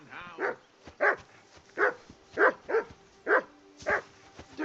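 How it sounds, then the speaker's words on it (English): Dog in the video game Kingdom Come Deliverance II barking repeatedly, about eight sharp, fairly loud barks at a steady pace, with a low steady background tone beneath them. "Call that dog, Henry."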